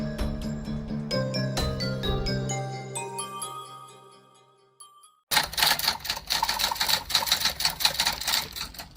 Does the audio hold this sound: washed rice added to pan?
no